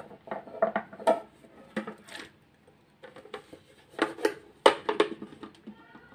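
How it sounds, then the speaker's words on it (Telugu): Carrot halwa is turned out onto a plate in a home kitchen, producing scattered clinks, taps and scrapes of a dish and utensils in irregular bursts, fairly close and quiet, with brief gaps between handling sounds. "ఇప్పుడు ఒక ప్లేట్ లోకి దీన్ని మనం తిప్పుకుందాము"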